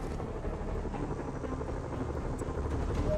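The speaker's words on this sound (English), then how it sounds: "What are these helicopters doing?" Helicopters in a Spider-Man video game give off a steady rotor whir under a low droning rumble, continuous and fairly faint, with no talking.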